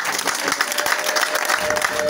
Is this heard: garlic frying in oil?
no